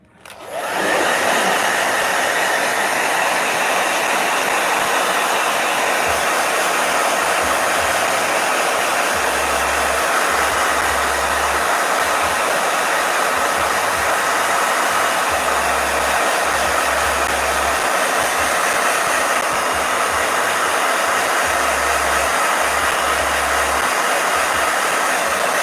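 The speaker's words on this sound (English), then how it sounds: "Hold on, blow dry." Hair dryer blowing hair, a loud, constant airy roar that starts abruptly and runs unbroken for the whole stretch, close to the listener and without any voices.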